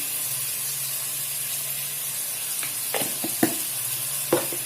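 Chicken frying with a teaspoon of ginger garlic paste gives a steady, loud hissing sizzle, broken in the second half by several close clacks and scrapes as the spoon mixes the pan.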